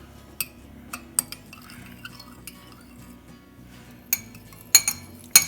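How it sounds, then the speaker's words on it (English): A fork beats egg yolks in a bowl while carrot muffins are being made, giving a few scattered light clinks and taps against the dish over a quiet background, with no talking. "And now we beat them. Kind of get the fork. Stir it up"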